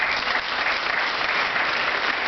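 A graduation audience of parents and teachers gives a big round of applause, an even, sustained burst of clapping from the crowd, heard alone.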